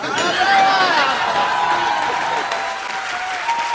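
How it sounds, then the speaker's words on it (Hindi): Studio audience clapping and laughing on a comedy show, a dense, loud burst that swells early then settles into sustained applause, with a voice talking over it. "तुम तालियां क्यों बजा रहे हो?"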